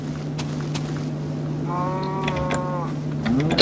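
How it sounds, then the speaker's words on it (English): A cow in the Minecraft video game gives one drawn-out, wavering moo of about a second, heard over a steady low background hum, with a few faint clicks around it. "Did I get anything from the cow?"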